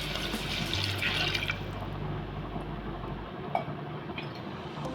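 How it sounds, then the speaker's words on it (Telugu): Water poured from a vessel into a pan of fried masala and tomato for potato kurma, a steady splashing pour that cuts off partway through, followed by quieter kitchen clatter. "ఇప్పుడు ఇందులోకి వాటర్ వేసుకుంటున్నాను నేను"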